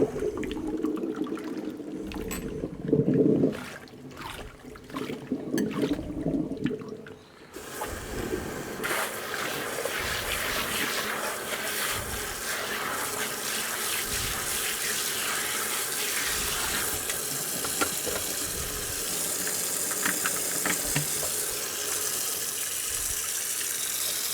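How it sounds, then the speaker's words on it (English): Running water pours steadily over a Hoover Junior U1104 vacuum cleaner's outer bag as it is rinsed under a tap, a broad continuous gush near and fairly loud after a few seconds of quieter splashing at the start, no talk over it. "I'm literally just going to rinse it off and empty it out."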